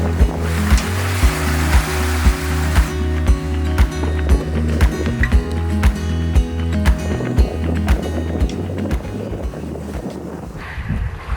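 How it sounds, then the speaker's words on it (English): Steady rush of six-to-eight-foot ocean waves and wind against a moving performance catamaran, with a constant low engine drone and rhythmic thumping throughout. "how big would you say these waves are?"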